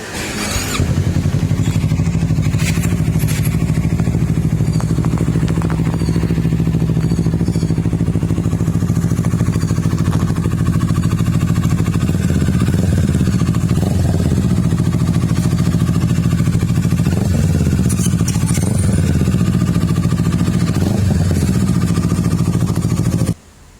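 A black 2018 Kawasaki Z650 motorcycle with 7,200 km on it runs steadily close by, its idle holding a continuous low drone with small revving swells throughout, and no one talks over it.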